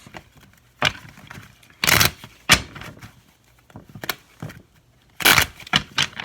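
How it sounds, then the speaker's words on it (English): A deck of tarot cards is shuffled several times at close range, producing irregular bursts of riffling and flapping between short pauses, with no talking. "Let me shuffle a couple more times."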